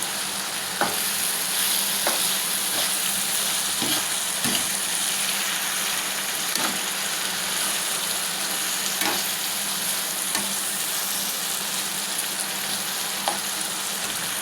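Long beans, potato and lentils fry steadily in a pan, a continuous close sizzle broken by occasional stirring clicks and scrapes, with no voices.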